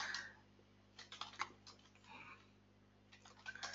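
Typing a command on a computer keyboard, quiet clusters of key taps in short irregular bursts with pauses between them.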